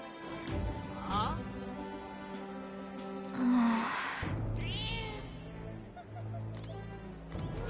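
A cat in a video game gives a few short meows among game sounds and effects, moderately close and intermittent.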